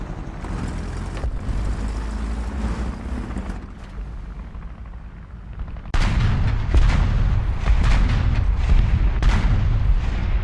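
A six-barrel gun in War Thunder opens up with loud, sustained rapid fire after a quieter stretch of wind-like rumble, the bursts close and dense.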